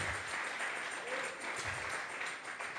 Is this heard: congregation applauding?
yes